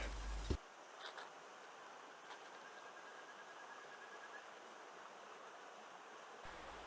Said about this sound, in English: Here's a closer look at Yutosan Falls from the pool below.